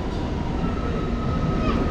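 A local passenger train for Puri pulls into a platform at a Kolkata station, giving a loud, close rolling rumble of wagons with faint squeals. Background voices can be heard.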